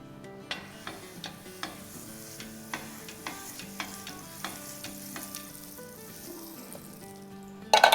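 Butter sizzling on a hot tava griddle for a sandwich, a soft steady fry with intermittent light clicks and taps of utensils, close and fairly quiet, with no talking.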